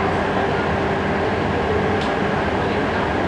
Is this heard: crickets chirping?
no